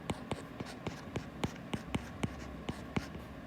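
Chalk or marker tapping and scratching on a board while a formula is written, a series of about a dozen short, sharp clicks in an uneven rhythm, close and fairly quiet, with no talking.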